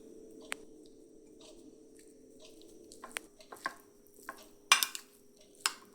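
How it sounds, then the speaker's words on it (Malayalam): Knife chopping three boiled eggs into small pieces on a board, a few sharp separate taps spread out with pauses, the loudest near the end, over a low steady hum. "അത് നമുക്കിതുപോലെ ചെറുതായിട്ട് അരിഞ്ഞു കൊടുക്കാം"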